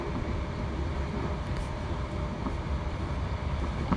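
Interior of a train running from Hamilton West toward Glasgow Central Low Level: a continuous low rumble of wheels on rails, with faint rattles and clicks throughout.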